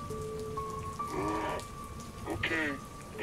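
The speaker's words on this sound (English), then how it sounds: "Now get out of the rain." Steady rain falls during a thunderstorm, a soft, even patter heard fairly quietly with a few faint tonal sounds in the background and no talking.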